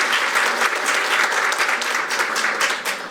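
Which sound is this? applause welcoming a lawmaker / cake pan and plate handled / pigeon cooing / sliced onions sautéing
applause welcoming a lawmaker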